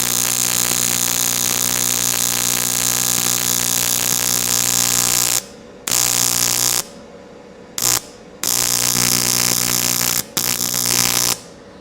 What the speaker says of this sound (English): You can kind of hear that fan.